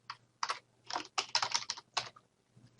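A new password is typed on a computer keyboard during a MySQL Server install on Oracle Linux 7, close crisp key clicks in short irregular bursts with brief pauses between them, and no speech.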